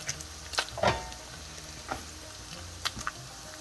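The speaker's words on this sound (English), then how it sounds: "We're going to saute them up a little bit." Peppers and onions sauté in a pan on a stovetop, a soft sizzle broken by a few clinks and scrapes of stirring, close and fairly quiet.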